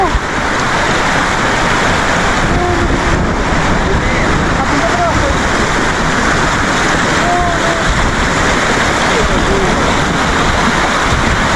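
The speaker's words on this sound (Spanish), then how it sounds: "¡Está suave el río!" Loud rushing river water in Mérida, Venezuela roars continuously close to the microphone along with wind buffeting, while people shout over it.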